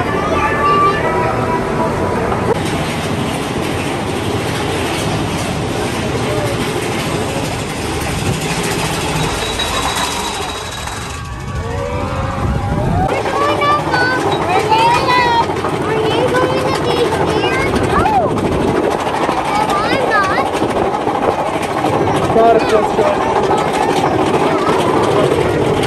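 The Thunder Mountain Railroad roller coaster train at Disney's Magic Kingdom clatters along with a steady mechanical rumble, loud throughout, with voices and crowd noise mixed in over the ride.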